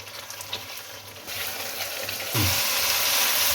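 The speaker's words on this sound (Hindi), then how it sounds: "इस मसाले को अब अच्छे तरीके से भून लें" Garlic, ginger and yogurt masala frying hard in a hot pan for a chicken salan, a steady sizzle that swells louder and brighter partway through as the heat goes up.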